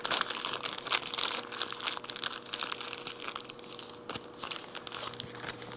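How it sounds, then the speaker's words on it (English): A plastic bag crinkles and rustles in irregular bursts as a mower bearing is slipped inside and sealed, close and moderately loud. "slip it in a plastic bag"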